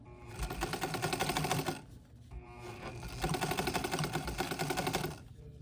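A sewing machine runs a straight stitch through stretchy fabric in two close, rapid bursts of even mechanical chatter, separated by a short pause.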